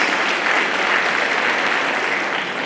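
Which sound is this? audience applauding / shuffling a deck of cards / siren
audience applauding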